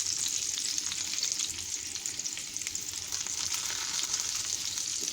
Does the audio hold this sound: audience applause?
no